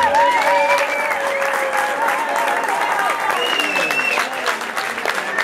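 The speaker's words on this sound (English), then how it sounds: "Applause!" Audience applause at a concert in Buenos Aires, steady dense clapping mixed with crowd voices and whistles, loud and sustained throughout.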